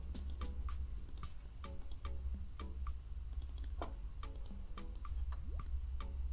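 Crisp clicks of a computer mouse while working in an Excel spreadsheet, a quick irregular series of sharp taps, some in close pairs, over a low steady hum.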